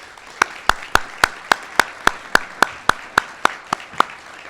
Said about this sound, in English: Would you please give them a hand of applause